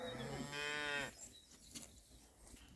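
A young calf on a farm gives one loud, drawn-out moo close by, calling for its mother cow, then falls quiet with only faint barn ambience.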